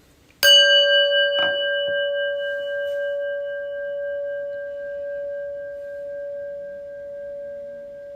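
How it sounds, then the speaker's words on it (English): A prayer bell is struck once, a clear close ring followed by a long, pure, shimmering sustain that slowly decays over several seconds in an otherwise quiet room. "and the prayer bell."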